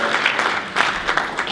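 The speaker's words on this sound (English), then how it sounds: "Please clap for him." An audience applauds an honoree at a Rotary service award presentation, steady hand clapping that fills the room, with faint speech mixed in.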